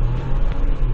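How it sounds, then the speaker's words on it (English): A 2021 Ford Bronco accelerates on a Moab trail ride, its engine a low, steady rumbling drone heard from inside the vehicle for about a second. "Can we give you an idea of what type of acceleration this thing has?"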